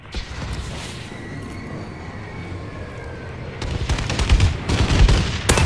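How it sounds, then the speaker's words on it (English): A friendly bombing run in the video game Call of Duty: Advanced Warfare, with a low rumbling bed of distant fire that builds into heavier explosive blasts and crackling gunfire toward the end. "Friendly bombing run clearing the way."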